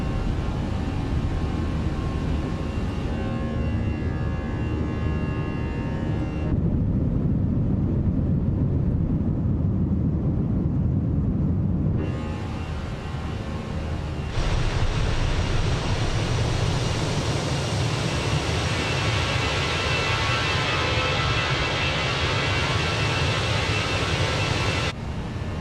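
Airbus A321 taking off and climbing in the Fenix flight simulator as the landing gear retracts: steady loud roar of jet engines and airflow, shifting in tone as the climb continues, with no voices.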